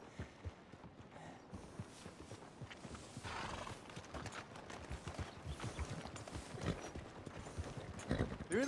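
Horse hooves clip-clop steadily in a Western video game, a walking rhythm of close, distinct beats over ambient game sounds, with a brief whinny toward the end.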